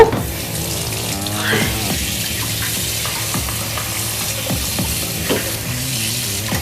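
Dishes and spoons washed under a running kitchen tap, a steady rush of water with clinks and clatters of crockery and cutlery throughout, close and fairly loud, with no talking.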